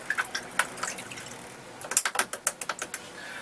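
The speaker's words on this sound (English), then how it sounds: "I'm going to rinse off my brush." A paintbrush rinsed in a water jar while painting a metallic poppy, giving a run of quick light clicking taps and splashy ticks, close and fairly quiet, bunched toward the end.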